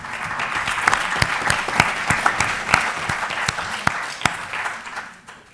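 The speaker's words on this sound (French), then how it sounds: "Donc on peut les applaudir parce qu'ils nous accompagnent." Audience at a French round-table discussion on living with aphasia applauds steadily, dense overlapping claps with a few sharp louder ones, sustained for several seconds before tapering off at the end.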